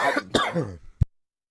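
A single sharp cough during a podcast comes right after a few quick spoken words, then silence.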